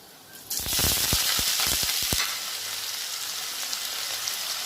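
Chopped onions hit hot oil with whole black peppercorns and cumin, bursting into a loud sudden sizzle with a quick run of sharp crackles and spoon knocks, then settling to a steady close frying hiss.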